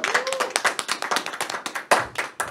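Applause from a small audience after a participant's contribution on a Catholic talk show, with distinct, fairly sparse claps forming an uneven rhythm throughout.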